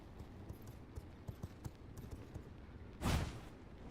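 Horse hooves clip-clop in the vampire survival game V Rising, with soft, evenly spaced hoofbeats at moderate distance, then a brief louder whoosh near the end.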